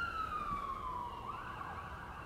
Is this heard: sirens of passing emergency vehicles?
yes